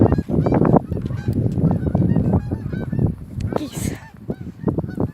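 A group of geese honk loudly and close by in rapid, overlapping calls, heard outdoors on a walk.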